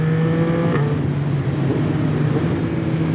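Yamaha MT-09 motorcycle pulling hard under acceleration, a loud, steady close-up engine drone with wind rush, holding a strong low note throughout without any talk.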